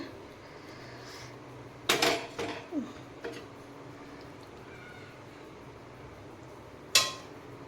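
Fried shrimp are tipped from a pan into a bowl, giving a few sharp metal-on-bowl clanks and scrapes around the middle and another clank near the end, against quiet kitchen background.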